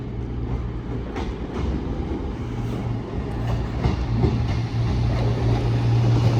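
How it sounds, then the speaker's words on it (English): Class 221 diesel unit on a Cross-Country service from Plymouth to Edinburgh passing through Sheffield station, a steady loud engine drone with rail rumble and faint wheel clatter building throughout, no voices. "behind me will be the 1522 cross-country service from Plymouth to Edinburgh"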